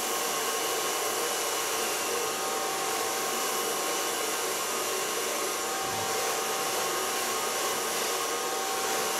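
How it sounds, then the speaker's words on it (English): A blow dryer on a flat, shine setting runs steadily with a loud, continuous airy whir from start to finish, with no talking. "Put my blow dryer on flat and shine"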